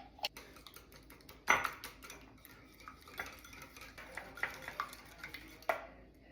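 Spoon clinks and scrapes in a bowl while hot cross bun ingredients are stirred together with mixed essence, a run of light irregular knocks with one sharper clatter near the start, close and fairly quiet.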